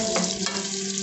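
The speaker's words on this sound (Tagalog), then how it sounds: "Ginigisa na natin." Onion and ginger sautéing in a pan: a steady close sizzle and crackle with faint stirring scrapes, continuous throughout the brief moment.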